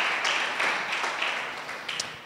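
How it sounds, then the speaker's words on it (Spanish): A church congregation applauds a visiting guest, a steady wash of many hands clapping at moderate loudness that holds through the moment and tapers slightly at the end. "Démosle un aplauso a John que está visitándonos hoy."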